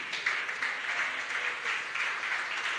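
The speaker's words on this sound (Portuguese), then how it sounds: "Dá aquela salva de palmas bem forte." A church congregation claps in steady, sustained applause, a moderately loud wash of many hands filling the room without voices standing out.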